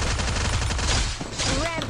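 Rapid gunfire bursts in the video game Free Fire, played on a computer, crackle densely and loudly without pause, with a voice partly audible underneath.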